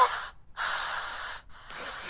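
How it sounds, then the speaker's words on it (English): A spray can of red colour hisses onto hair in bursts: two long sprays separated by short pauses, then a third starting near the end, close and fairly loud. "Now it's starting to get spray painted."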